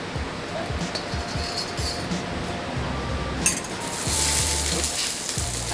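Deep-fried chicken sizzles loudly and steadily in a stir-fry pan, with occasional metallic clinks and stirring scrapes, the hiss swelling toward the end.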